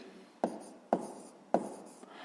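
Pen strokes on paper while a long division is written out by hand, three distinct scratchy strokes at a slow, even pace, close and quiet with no talking.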